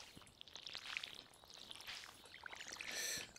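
Water from a watering can pours softly over beans in the farming game Stardew Valley, a faint trickling splash with small drips and gurgles that swells slightly toward the end.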